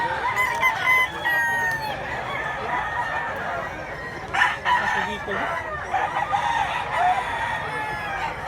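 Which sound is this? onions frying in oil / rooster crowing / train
rooster crowing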